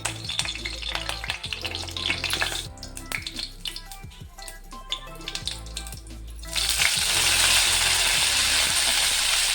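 Mustard seeds frying in a generous amount of oil, a crackling sizzle with stirring clatter that eases midway, then swells into a loud, steady hiss for the last few seconds.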